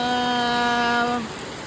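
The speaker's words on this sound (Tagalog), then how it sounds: "Nako, ulan naman. Ulan na naman" A steady hiss of rain falls throughout, with a brief electronic tone humming over it before fading out.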